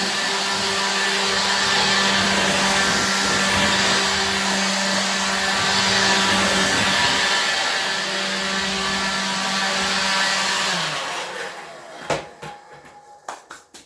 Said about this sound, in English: Every bit of the dust that's on this dresser, I'm going to blow off.